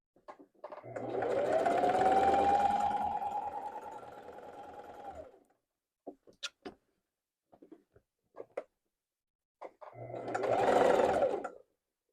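A sewing machine stitches denim jeans into a maxi skirt, running in two bursts, a long whirring run of about four seconds and a shorter one later, with small clicks and handling noises in between.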